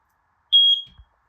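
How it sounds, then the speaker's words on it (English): An RV smoke alarm sounds one loud, steady high-pitched beep for about a quarter second while its test button is held, then cuts off with a faint click. "to test the fire alarm, what you do is just hold down this test button for a few seconds"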